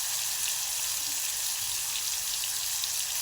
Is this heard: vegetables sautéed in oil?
yes